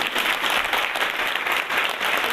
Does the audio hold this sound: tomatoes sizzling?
no